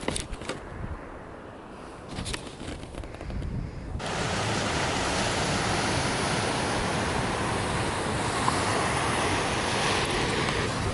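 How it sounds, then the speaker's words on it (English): Waves breaking on a small beach at Crackington Haven on the Cornish coast, a steady broadband surf wash that swells louder after the first few seconds and continues unbroken, close and enveloping, with no talk. "This is a beautiful little beach with some good waves."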